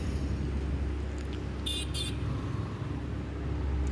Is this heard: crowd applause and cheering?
no